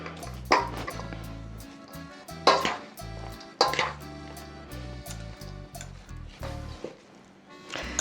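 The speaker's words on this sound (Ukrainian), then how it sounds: "Перемішали до однорідного такого і поливаємо ще салатик зверху. Перемішуємо." Beet salad is stirred in a bowl, giving a series of distinct clattering and scraping knocks of utensil against the dish, irregularly spaced and close.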